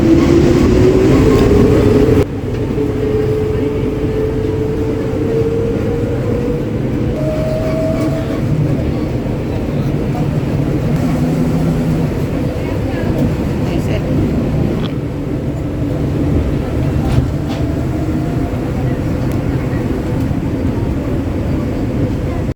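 Constant low rumble of a moving train in Malaysia, heard from inside a carriage, steady throughout, with faint talking mixed in.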